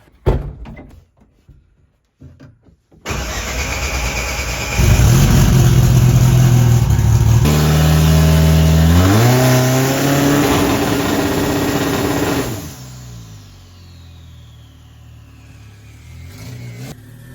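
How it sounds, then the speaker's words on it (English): Seven-second DSM drag car held on the brake to build boost, its engine bursting into a loud sustained rev that climbs in pitch before dropping back to a rough idle, after a few brief knocks at the start. "put it on the brake and see if it'll make boost"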